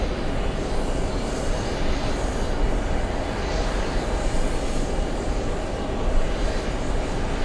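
A Virgin Atlantic airplane roars steadily at JFK airport, a loud, continuous broadband engine rumble that holds level throughout with no talk.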